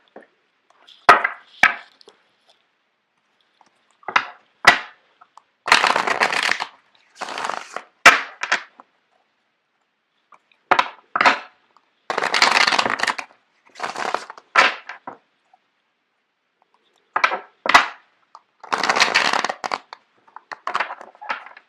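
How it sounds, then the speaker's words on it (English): Tarot cards being shuffled by hand in short, crisp riffling bursts, about a dozen separated by brief pauses, close and clear with no talking. "I'm going to shuffle out the cards for you guys."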